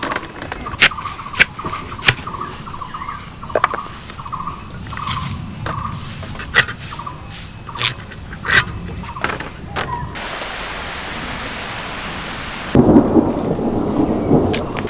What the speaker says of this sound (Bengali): মাঝখানে একটু ফাঁকা দিয়েছিল, আবার বৃষ্টি শুরু হয়েছে